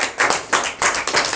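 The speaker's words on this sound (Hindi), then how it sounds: "हाँ, ताली लगाएंगे यीशु के लिए जोर से" A congregation at a Christian home prayer meeting claps loudly together in a steady, rhythmic beat, with no voices over the clapping.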